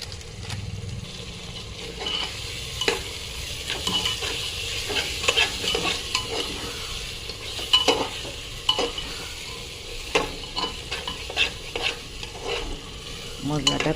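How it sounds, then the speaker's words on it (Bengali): Turmeric and chili powder masala frying in a pan for mutton kosa, sizzling steadily while a spoon scrapes and stirs in irregular strokes, close and moderately loud with no voices. "মশলাটা কষা হয়ে গেছে"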